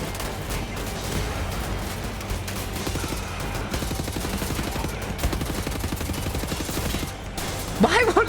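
Shotgun fire in the World War II shooter game Wolfenstein: a dense, loud barrage of blasts and combat noise continues throughout, with a voice speaking briefly near the end.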